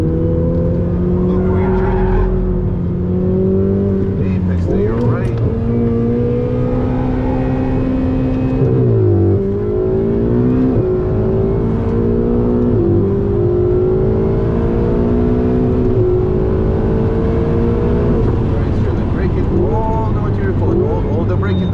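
A Ferrari sports car driven hard on a track in Miami, its engine droning loudly and continuously with pitch rising and falling through acceleration and braking, while an instructor talks throughout.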